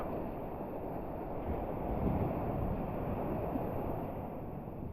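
Ocean waves break and wash continuously along a beach in Portugal, producing a steady, broad roar with gentle surges and some wind rush, with no voices present.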